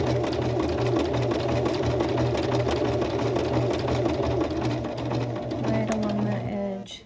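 A sewing machine backstitches along the edge of a shirt, running in a continuous close whir, then slowing and stopping just before the end.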